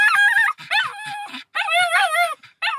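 Two dogs whimper and yip close by in high-pitched, wavering bursts, short cries broken by brief pauses.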